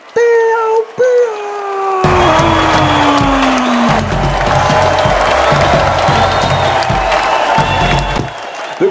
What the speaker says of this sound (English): The crowd's going wild here